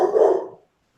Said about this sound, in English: the big giant barking noise behind me, that would be my black lab puppy